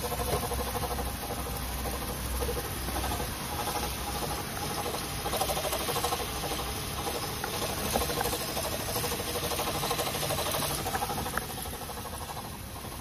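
A 2006 Mercedes-Benz C230 Sport engine runs steadily with a continuous odd whine and rattle, thought to come from a failing alternator. The noise stays close and even in level for the whole stretch, with no talk over it.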